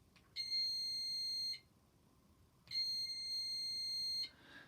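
A small battery-powered buzzer circuit sounds twice as a paper clip bridges the gap, each time giving a steady, shrill electronic buzz of about a second and a half, separated by a quiet pause.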